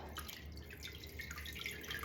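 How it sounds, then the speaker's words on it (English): Water trickles and drips steadily as it drains through a paper mould while making handmade recycled paper, a soft continuous patter close by with no talking. "you can hear that water is coming through the bottom"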